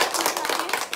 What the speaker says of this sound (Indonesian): Oke, kita beri aplaus pemain nomor 4 sekali.